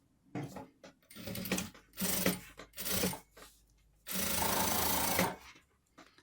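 A sewing machine stitches a zipper onto a fleece sweatshirt with satin, running in several short mechanical bursts and then one longer, steady burst, close and clear, with quiet gaps between runs. No one speaks.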